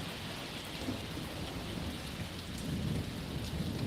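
Steady, dense rain pours down during a thunderstorm in Pittsburg, Kansas, with low thunder rumbling underneath that swells toward the end; continuous and moderately loud, with no voices.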